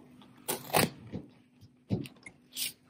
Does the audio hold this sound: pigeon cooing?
no